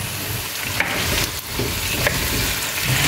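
Potatoes and carrots sizzle steadily in hot oil in a pan for chicken afritada, with a bay leaf already in, as they are stirred; the frying is loud and continuous, with a few scraping stir strokes.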